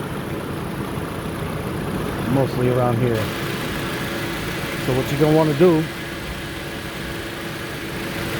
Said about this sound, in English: Don't mind the engine noise and the wind noise